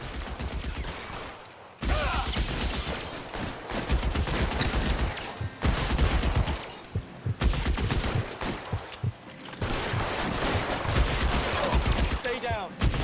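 Dense, sustained gunfire in the video game L.A. Noire, loud and continuous bursts broken by a few brief pauses, filling the scene with rapid crackling shots.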